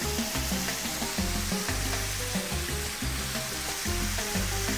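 Salt and pepper jumbo shrimp, Chinese style, fry in oil with a steady, dense sizzle and crackle that stays loud and close throughout, with no talking.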